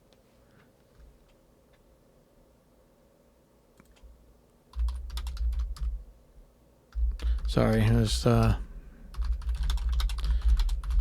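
Computer keyboard typing in a small home studio room, scattered light key clicks at the start, then heavier thumping bursts and a brief spoken apology partway through.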